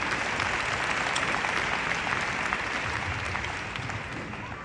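Convention audience gives sustained applause in a large hall, a dense, steady wash of clapping that fades slightly toward the end.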